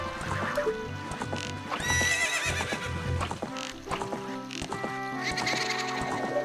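Horse neighing and whinnying with clip-clop hooves in Ocarina of Time, mixed with busy game music and effects; no talk.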